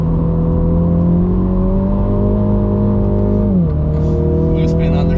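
A Mini GP3 race car drives on track, its engine droning loud and steady with a sustained tone that holds, then drops as the revs fall, and faint higher noises come in toward the end.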